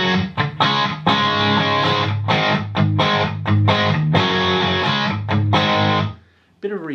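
Overdriven electric guitar through a Digidesign Eleven Rack Marshall JCM 800 amp model plays chunky, palm-muted chords and riffs with a crunchy tone, loud and close, ending in a brief pause.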